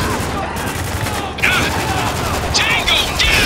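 Shotgun blasts in the war shooter Spec Ops: The Line, a few sharp bursts of fire breaking through a steady bed of game noise and combat ambience, fairly close and loud.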